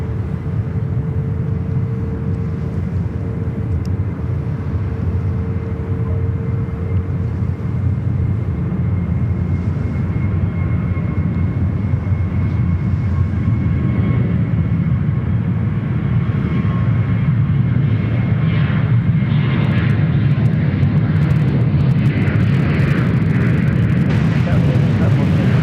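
Velocity airliner taking off from the runway at Sydney Airport, a steady, loud jet engine roar that builds and holds throughout, with a rising whine late in the take-off roll.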